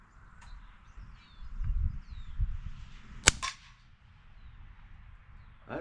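A quiet subsonic .22 CB Short rifle round fired with no silencer gives a single sharp crack at close range, followed by a faint clatter and ringing as something is flung upward, over soft outdoor background with birds.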